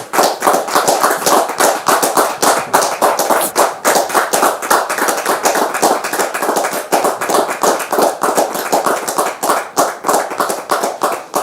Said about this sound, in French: Merci de la recevoir sous vos applaudissements